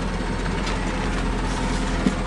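A hotel's beach shuttle cart idles at a resort in Turkey, a steady low engine drone held close and constant for a couple of seconds without talk.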